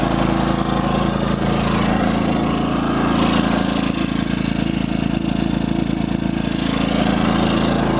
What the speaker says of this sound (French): Donc là il tourne au gaz.